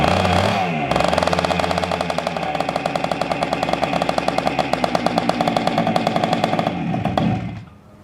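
A rebuilt 1976 Honda MR175 Elsinore single-cylinder motorcycle engine fires after a moment of cranking and runs steadily, a loud, fast, regular popping thump close by, then cuts out at the end.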